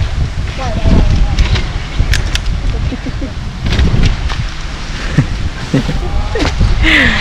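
Wind buffets an outdoor microphone in steady low rumbling gusts that swell and ease throughout, with faint voices and scattered small sounds underneath.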